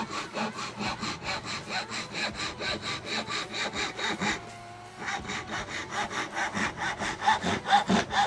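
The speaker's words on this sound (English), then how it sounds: "I did buy these, one of these, I guess they call them Japanese saws from Temu." Japanese hand saw cutting wood in steady rhythmic back-and-forth strokes, close and fairly loud, with a short pause midway before the sawing resumes slightly stronger; no talk.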